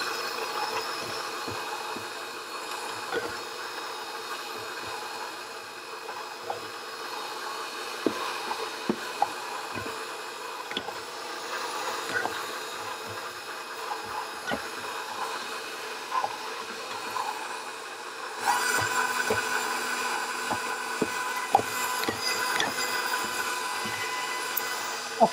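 An electric pasta machine runs steadily as it mixes flour into dough, giving a continuous mechanical hum with small scattered knocks and clicks. The whirr grows louder and brighter near the end.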